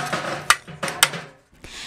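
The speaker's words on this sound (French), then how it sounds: "chaque pièce est assemblée et dressée à coups de marteau" Sharp, ringing hammer blows strike metal wheelbarrow parts in a workshop as each piece is assembled and straightened, three or four loud separate hits with short pauses between them.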